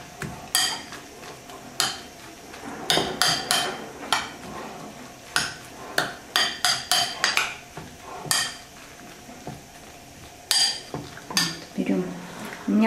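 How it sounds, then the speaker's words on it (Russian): Spoon scraping and clinking in a bowl while a zucchini snack batter is mixed, irregular sharp metallic knocks and scrapes close by with quiet stretches between. "Сейчас мы это все перемешаем и будем выкладывать в формочки."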